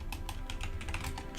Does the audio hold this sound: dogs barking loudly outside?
no